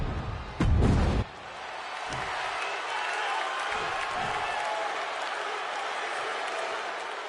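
Crowd noise in the WWE 2K26 wrestling video game, a steady roar of arena cheering, with a couple of loud thuds from ring action near the start and faint commentary-like voices underneath.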